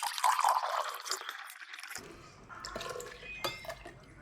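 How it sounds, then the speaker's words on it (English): Full cream milk and room-temperature water pour into a bowl of bloomed yeast for pot bread, a close liquid splash followed by softer drips and light clinks of a bowl. "so just full cream milk, and then half a cup of room temperature water. In that goes."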